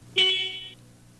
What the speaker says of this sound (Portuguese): Verifique a buzina.